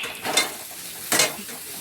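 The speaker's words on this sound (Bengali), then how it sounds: "আর এই যে ডিমটা দিয়েছি, দিয়ে এই যে এইভাবে হাই ফ্লেমে ভাজছি।" Egg with chopped chili and tomato fries in a pan over a high flame, giving a steady sizzle with two brief bursts of stirring or scraping against the pan.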